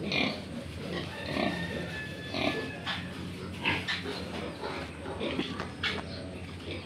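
Grunting and oinking from pigs in a piggery, close by, in short irregular bursts, with some squeals and a faint high whine early on.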